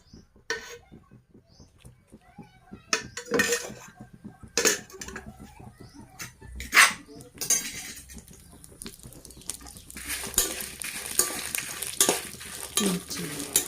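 Dried red chillies fry in oil in a pan over a gas flame, giving a soft crackling sizzle broken by several clinks and scrapes of a utensil against the pan, and the frying grows louder toward the end.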